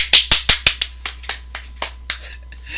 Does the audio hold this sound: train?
no